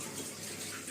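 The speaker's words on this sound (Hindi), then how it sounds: "देखिए स्टार्ट हो गया। सबसे पहले पानी को निकालेगा" A Samsung fully automatic washing machine drains water, making a soft, steady rushing gush at low volume for about a second, with no voices.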